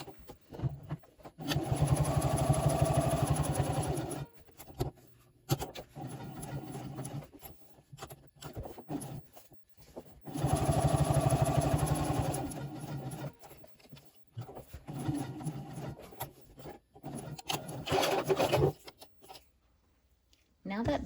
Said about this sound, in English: Now we're going to take this over to the machine, and we're going to top stitch the edge on both sides at 1/8 of an inch.